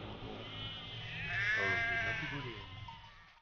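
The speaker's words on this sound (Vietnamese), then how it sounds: "Có cừu kìa." A sheep in the video game Valiant Hearts gives a single drawn-out, wavering bleat that swells in the middle and fades, heard clearly over a low in-game background hum.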